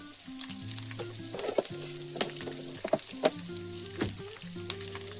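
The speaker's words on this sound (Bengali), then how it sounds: "আলুটাকে বেশ কিছুক্ষণ একটু লালচে লালচে করে ভেজে নেবো" Salted potatoes fry in a pan with a soft, continuous sizzle, punctuated by sharp clicks and scrapes as they are stirred and turned, heard up close, with a low background hum.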